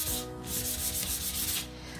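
Hand sanding of a painted wooden sign, a steady scratchy rubbing that continues at close range throughout, with strokes pulsing back and forth and no voices.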